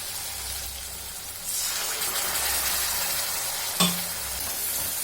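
Mint pickle mixture with tamarind stirred and frying in oil, a steady close sizzle that swells after a moment, with one sharp clink of a spoon against the pan midway.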